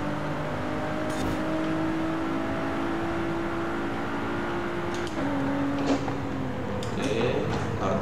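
A race car engine in Forza Horizon 5, heard from the cabin during a street race, drones continuously with a tonal whine that holds, dips and climbs again as throttle eases and reapplies.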